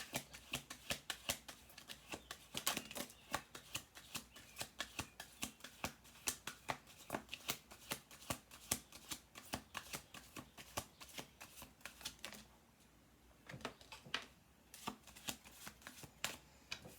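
A deck of tarot cards is shuffled over and over, producing a steady run of crisp, fluttering riffles and slaps close by. The sound is quiet and continuous, with a brief lull near the end.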